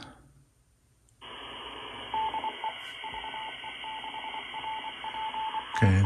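A weak amateur radio signal comes through an Icom IC-705 receiver as a steady hiss with a faint intermittent tone, following a brief quiet stretch, and a click near the end.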